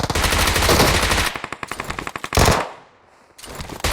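Gunfire in the mobile battle-royale game PUBG Mobile: a rapid automatic burst, then a rattling string of distinct shots, another dense burst, a short lull and a final volley, loud and close.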